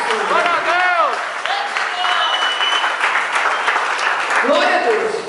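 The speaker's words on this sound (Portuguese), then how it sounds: "Aplauda o nome dele." A church congregation applauds steadily, a full, close wash of clapping with voices shouting and calling out over it throughout.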